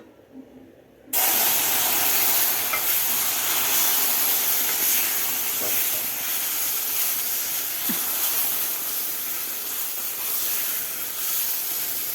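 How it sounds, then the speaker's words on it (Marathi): Boiling water hits hot ghee with a sudden loud burst of hissing and spattering, then keeps steaming and bubbling vigorously at a steady roar. "आता यामध्ये आपल्याला गरम केलेलं उकळतं पाणी घालायचं आहे"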